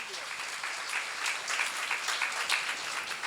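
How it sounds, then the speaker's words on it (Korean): A church seminar congregation claps together, a dense steady burst of applause lasting about three seconds, close and full. "박수로 하세요."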